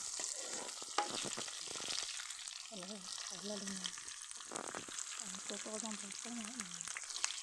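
Ingredients stir-fry for a hill-style Thai pumpkin curry with a continuous close sizzle and occasional scraping, while someone talks over the cooking.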